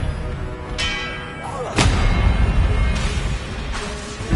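Blasting Confringo spell explosions in Hogwarts Legacy, a sharp loud boom followed by rumbling, with further impacts and a shouted spell voice nearby.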